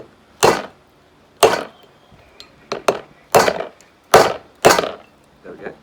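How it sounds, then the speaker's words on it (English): Hammer smashing the tails off cone snails in sharp, loud cracking blows, six or seven hard impacts at uneven intervals with crunchy shell splintering, close and alone. "I use a hammer."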